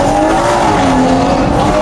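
A Stage 2 tuned BMW M140i accelerates hard, its exhaust roaring loud and close with a steady rising engine tone throughout, no voices over it.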